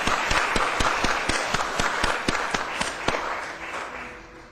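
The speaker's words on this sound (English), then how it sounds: "I'd like to start today's ceremony with a round of applause." A small group claps at a NASDAQ closing bell ceremony, the individual hand claps sharp and spaced out, then thinning toward the end.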